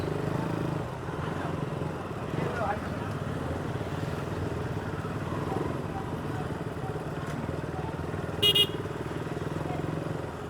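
A motorcycle engine drones steadily amid crowded road traffic in Kattankudy, with a short horn honk near the end.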